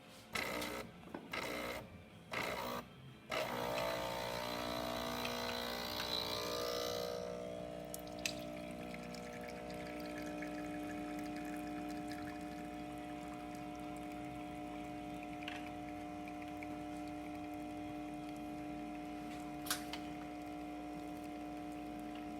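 Breville espresso machine with a newly replaced water pump, pulling a test shot after descaling and a full tune-up: a few loud pulsing pump bursts give way to a steady loud drone with a humming tone.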